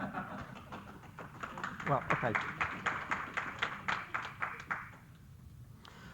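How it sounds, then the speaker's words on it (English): A small audience at an astronomy society evening talk claps in crisp, separate hand claps that thin out and fade over several seconds, with a brief spoken remark. "Thank you for that thunderous applause"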